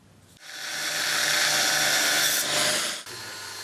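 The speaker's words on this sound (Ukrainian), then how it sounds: "Ножами та болгаркою інспектори рибохорони знищують встановлений підйомник" An angle grinder cuts through a poachers' fishing lift net frame, a loud sustained high-pitched grinding roar lasting about two and a half seconds, starting and stopping abruptly.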